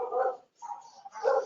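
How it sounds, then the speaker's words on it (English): Dogs bark in a residential neighborhood, three short muffled barks in quick succession with brief gaps, fairly faint and heard alone. "I got barking dogs in the neighborhood."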